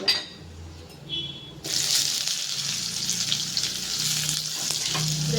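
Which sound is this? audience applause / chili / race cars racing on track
chili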